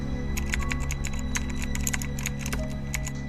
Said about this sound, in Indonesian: Suara ketikan keyboard kali ini lebih jelas dan lebih teratur